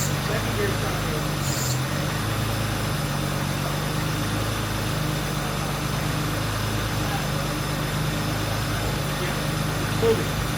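A J-swapped Honda NSX engine runs steadily in second gear during a clutch test, giving a continuous low mechanical drone at a constant level, with muffled voices nearby.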